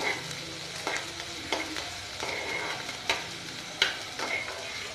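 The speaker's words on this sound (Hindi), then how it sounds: "तो इसमें हरी मिर्ची, प्याज और छोटी मिर्ची शिमला मिर्ची एक साथ डाल देते हैं और लो फ्लेम पे इसे" Green chillies, onion and capsicum frying gently over a low flame, making a soft continuous sizzle with regular stirring clicks and scrapes, and no talking.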